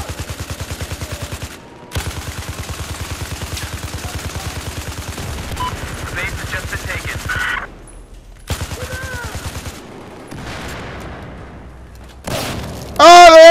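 Rapid automatic gunfire in Battlefield 4, sustained bursts of rattling shots with brief gaps, a few louder thuds and booms, and a sharp swelling blast near the end.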